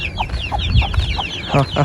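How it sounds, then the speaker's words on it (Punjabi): White broiler-type hens cluck nearby in short repeated bursts, with birds chirping faintly in the background. "ਸੋਹਣੀ ਮਾਸ਼ਾਅੱਲਾ ਮੁਰਗੀ ਵੇਖੋ, ਵਾਈਟ ਮੁਰਗੀ"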